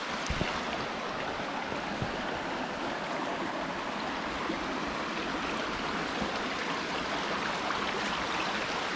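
A river in the Lake District rushes steadily at a walkers' crossing point, a continuous broadband wash of flowing water close by with no talking.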